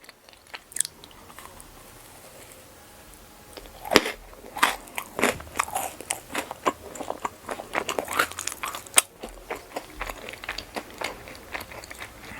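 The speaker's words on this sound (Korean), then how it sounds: "이 진주도 먹어볼게요" Someone bites and crunches a small candy pearl, like a chocolate ball, with close crackly crunches and chewing that build into a dense stretch before trailing off.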